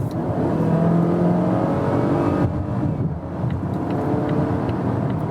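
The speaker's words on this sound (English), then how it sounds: "So you see this 4-cylinder engine, of course, you hear how it's working" Inside a Volvo XC40 R-Design in dynamic mode, the four-cylinder engine pulls hard from 60 to 100 km/h with a rising whine, then eases off after a gear change, steady and fairly loud.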